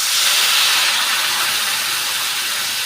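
Water poured onto spices frying in a pan for a Bengali rui fish curry with potato and green mango, giving a loud, close, continuous hissing sizzle that fills the whole moment without talk.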